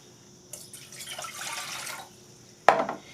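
Cold water pours briefly into a container for apple pie filling, a soft splashing rush lasting about a second and a half, followed by a sharp clink of glass near the end.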